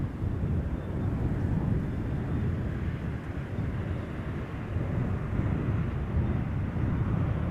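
A Ryanair Boeing 737-800 on rapid descent along the glide slope toward Amsterdam's runway 18 Center gives a steady, muffled, broadband jet roar with wind-like rumble, fairly faint and unbroken throughout.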